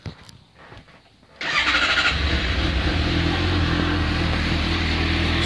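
A Suzuki GSR 750 motorcycle with an IXIL Hyperlow exhaust: after quiet handling noises, the engine fires up abruptly and settles into a loud, deep, steady idle rumble close by.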